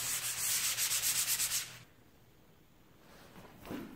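Sanding during cosmetic cleanup of expanding foam in a garage, with a steady rhythmic rubbing scrape for about a second and a half that then stops, leaving quiet room tone and a faint brief scuff near the end.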